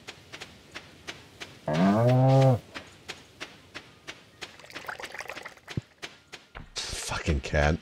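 A cow in the Stardew Valley farming game gives one loud, drawn-out moo, with a shorter moo at the end, over steady clicking footsteps and game sound effects.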